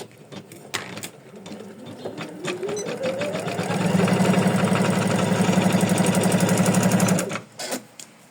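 An embroidery machine stitches an in-the-hoop cozy house ornament with a steady, close, rapid mechanical clatter. The whirring hum rises in pitch as it gains speed, holds a loud even run, then stops, with scattered small clicks before and after.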